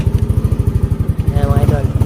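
A Yamaha Aerox scooter with an error 12 fault runs just after a magneto install, its engine putting out a rapid, steady low throb, close and loud, with brief faint vocal sounds over it.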